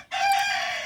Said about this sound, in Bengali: ওই জন্যে মোরগ ডাকছে মাঝে মাঝে